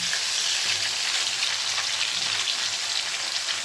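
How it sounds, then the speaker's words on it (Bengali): Fish frying in a pan in a home kitchen, a steady, dense, close sizzle and crackle of hot oil that continues evenly throughout with no talk. "মাছগুলো একটু ভেজে নিই"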